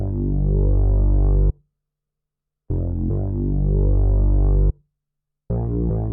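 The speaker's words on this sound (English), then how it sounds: "I added this large synth bass and it sounds like this" A heavy, deep synth bass plays long sustained notes in bursts with short silences between, loud and full in the low end.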